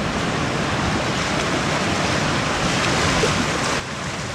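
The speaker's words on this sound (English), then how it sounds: "This rapid's called Pinball. It's the very last rapid." Pinball rapid in Giant Gap on the North Fork of the American River, a steady loud rush of churning whitewater close by, easing slightly near the end, with no voices.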